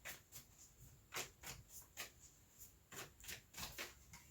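Tarot cards being shuffled by hand in a quiet room, a series of soft crisp riffles and slaps in an uneven rhythm, close and fairly faint, with no talking.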